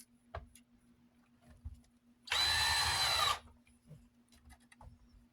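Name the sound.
power drill driving replacement screws into a fan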